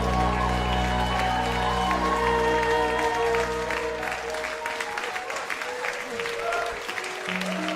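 A crowd applauds and cheers loudly and steadily, with a band's sustained music fading out underneath as the clapping continues.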